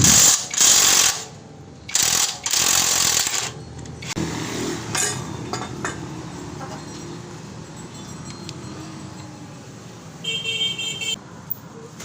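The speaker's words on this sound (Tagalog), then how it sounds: "Ayan, tatanggalin muna natin yung tambotso." Tools work at the exhaust pipe of a Bajaj CT 125 motorcycle, giving loud bursts of mechanical rattling and metallic clanks up close, followed by quieter scraping and handling noises.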